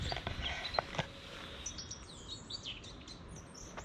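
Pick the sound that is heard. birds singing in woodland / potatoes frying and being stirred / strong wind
birds singing in woodland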